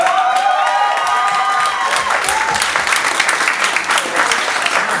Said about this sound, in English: Can we get another round of applause for Smash,